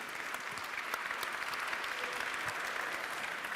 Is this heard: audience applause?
yes